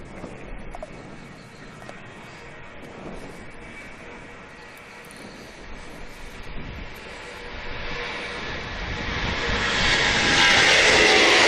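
A Ryanair airliner at Manchester Airport, its jet engine roar building steadily from a distant rumble to a loud, close, broadband whoosh by the end, with faint birdsong in the background.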